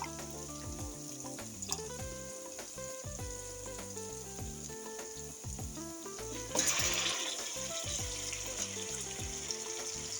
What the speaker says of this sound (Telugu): ఇప్పుడైతే మనం నీట్గా కడిగి పెట్టుకున్నటువంటి చికెన్ ఇందులో వేసుకోవాలి.